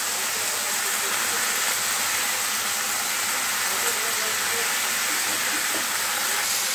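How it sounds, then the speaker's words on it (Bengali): Spices tempered with radhuni fry lightly in a pan for a bitter neem curry, giving a steady, dense sizzling hiss that holds evenly throughout without breaks. "কড়া করে ভাজা হবে না, হালকা করে ভাজা হবে।"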